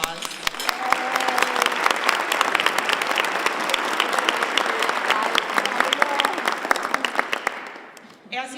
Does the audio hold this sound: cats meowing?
no